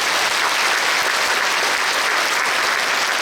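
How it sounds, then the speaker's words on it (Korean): Congregation applauding at a Korean church commemorative worship service for the 80th Liberation Day, held at Yonsei Central Church: loud, dense, sustained clapping from a large crowd, steady from start to finish, with no voices over it. "이분들 위해서 박수 해주십시오."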